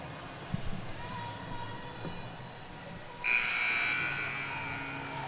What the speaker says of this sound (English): As we get the buzzer.